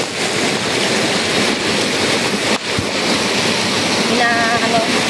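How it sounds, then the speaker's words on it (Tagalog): Heavy rain pouring during a tropical storm, a dense, loud, steady wash of water with wind roar throughout, close to the microphone, with no clear voices. "Ayan po, sobrang lakas ng ulan."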